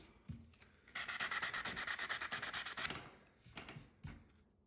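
Sanding furniture coated in paint designed for cabinetry, a quiet close-up rasping rub in a rapid rhythmic burst of strokes for about two seconds, followed by a few short, separate scrapes.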